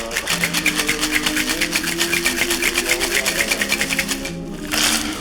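Ice rattles hard inside a cocktail shaker as two summer cocktails are double shaken, a steady rapid rhythm of sharp pulses that is loud and close, ending with a brief burst near the finish.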